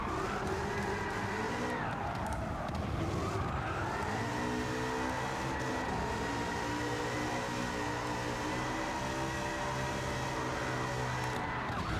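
A Nissan 300ZX with a swapped engine in Gran Turismo 7 drones steadily through a slow circuit, its engine tone rising and falling with light throttle taps, loud and continuous without a break.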